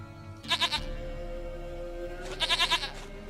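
Two short bursts of goat bleating in The Witcher 3: Wild Hunt, each a quick wavering cry, the second after a pause, close and clear over a low game ambience with no talk.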